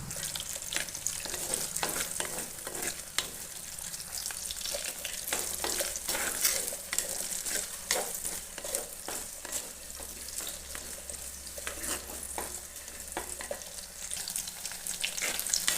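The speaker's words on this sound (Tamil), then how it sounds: "இதை நல்லா இப்போ வதக்கிக்கலாம்." Ginger, garlic and shallots sauté in a pan with a steady, close sizzle, broken by repeated scraping stirs and no voices.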